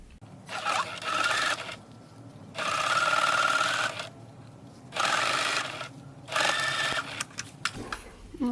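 A sewing machine stitches fabric for a cup-shaped face mask with a nose wire, running in several loud bursts of fast whirring with short pauses between, up close.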